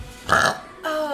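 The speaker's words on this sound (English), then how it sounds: "that was a good burp" A woman lets out a single loud, close burp, a brief guttural croak followed by a short voiced tail.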